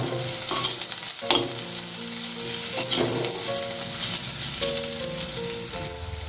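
Onions frying in oil with salt, sugar and turmeric for a Bombay duck and potato curry, a steady close sizzle with bursts of crackle and occasional spoon scrapes against the pan, continuous throughout.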